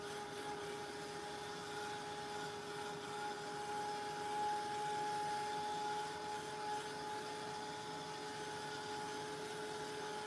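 A heat tool drying craft ink blows a steady, faint whirring hiss with a constant high whine. It runs evenly and alone, with no talk.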